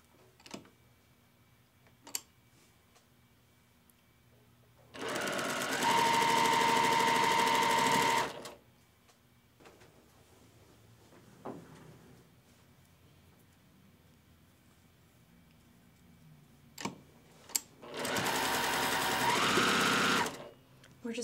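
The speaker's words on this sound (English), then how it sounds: "Put pieces right sides together and chain piece as we sew." Home sewing machine chain piecing quilt block pieces for a double windmill block, running in two loud steady bursts of a few seconds each, separated by quieter handling noises and light clicks.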